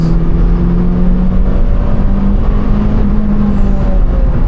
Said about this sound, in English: it is a Civic Type R, and it sounds like this